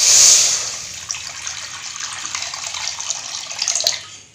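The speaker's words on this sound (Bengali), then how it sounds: "একটা কড়া বসে দিয়েছি, কড়াতে জল দিয়ে দিব" Water pours from a tap into a wok set on a home kitchen stove, a steady gushing stream with a louder burst at the start, close and continuous with no voices.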